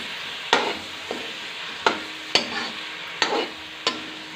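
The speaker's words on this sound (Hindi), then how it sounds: "और इसे अच्छे से मिक्स करेंगे" A spoon stirs bathua greens and brinjal curry in a pan, making about six distinct scraping knocks spaced irregularly over a low, steady sizzle, close and clear with no talking.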